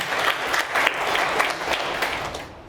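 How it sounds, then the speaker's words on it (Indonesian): A room full of people clapping steadily for a few seconds, dense and fairly close, tapering off at the end. "tepuk tangan untuk Kesia."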